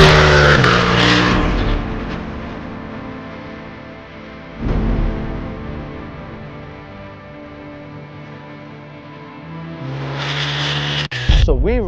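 The 2024 KTM RC 8C, a track-only racing motorcycle, revs loudly and close by on a race track. Its engine note rises and falls in strong harmonic sweeps, with a sharp burst of revs near the end.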